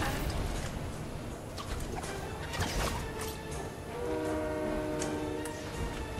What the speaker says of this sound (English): No, you missed the train.